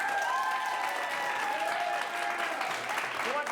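Improv comedy theater audience clapping to vote, a loud, sustained round of applause with a host's voice speaking over it.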